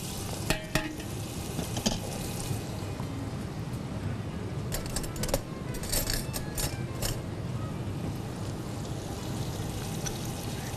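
Meat with garam masala being stir-fried for daleem: a steady, dense sizzle with scraping stirs and a few sharp clinks of the spoon against the pot, continuous throughout with no talking.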